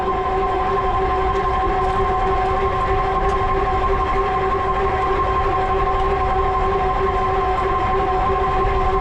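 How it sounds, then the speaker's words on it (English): An electric bike's hub motor gives a steady, droning whine over the rushing road noise of knobby fat tires, continuous and fairly loud for about nine seconds, with no talk. "Now the noise you hear on the bike, that is the hub motor."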